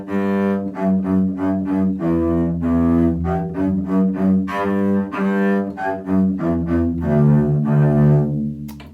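Bass played on its own, running through the Cabbage song from a fourth-grade bass lesson: a steady series of separate, loud, close bowed or plucked notes with clear changes in pitch and no talking.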